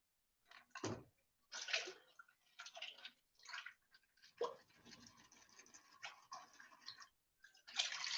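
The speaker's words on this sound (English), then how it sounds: "So I'm just going to dump this water in here." Rock tumbler water poured from a container down a drain, coming as uneven splashing gushes and trickles with short pauses between pours, close by.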